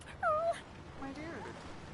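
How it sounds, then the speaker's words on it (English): A dog in Divinity: Original Sin II lets out one short, high, falling whine near the start, then quieter ambient game sound follows. "The dog whines and continues pawing at its nose"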